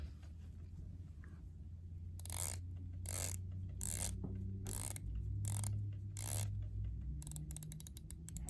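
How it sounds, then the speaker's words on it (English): Bezel of a Breitling Chronomat watch being rotated, a series of crisp ratcheting clicks in evenly spaced bursts, close and quiet, with no talking. "Take a listen to the bezel if there's any difference."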